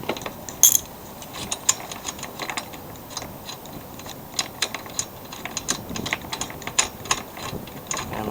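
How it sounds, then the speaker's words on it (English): A big socket wrench ratchets on the blade of a Troy-Bilt lawn mower, giving quick irregular clicks and bursts of ratcheting at close range with short pauses in between and no talk. "I have my blade removal tool on, and I have my big socket wrench"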